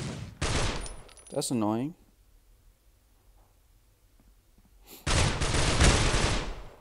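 Bursts of automatic gunfire in the mobile shooter Critical Ops, two dense volleys separated by a quiet gap, with a short spoken remark in between.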